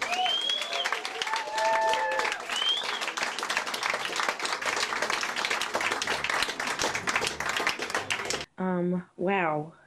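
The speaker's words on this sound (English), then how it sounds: "round of applause" A crowd at a live show applauds with dense, steady clapping for several seconds, with a few voices calling out, followed by brief speech at the end.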